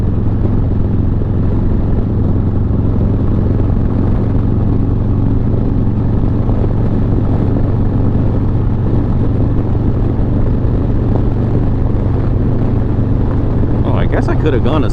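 A 2020 Harley Davidson Low Rider S riding on a freeway near San Antonio, with a constant loud engine drone and roaring wind that fill the whole ride without letup.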